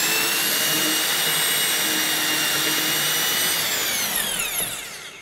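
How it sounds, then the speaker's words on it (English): A power drill bores straight into a door with a loud, high whine. The pitch sweeps upward near the end as the bit speeds up, then the sound begins to fade. "If I drill straight in, it really superheats fast."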